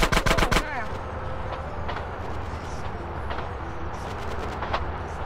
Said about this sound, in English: I'm sick of hearing gunshots, man.